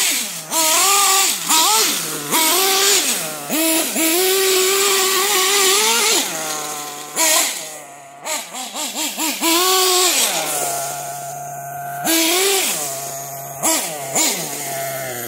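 The small nitro engine of a Kyosho Neo ST 3.0 RC car, running with a two-stage idle that is too rich at the bottom end and too lean at the top, buzzes loudly up close, revving up and dropping back repeatedly with brief stuttering dips.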